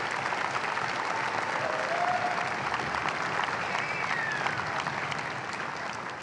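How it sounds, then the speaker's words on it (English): Dense, sustained applause from a large crowd at a high school graduation ceremony, a steady wash of many hands clapping that stays loud before easing slightly at the end. "Let's give them another round of applause for those great speeches."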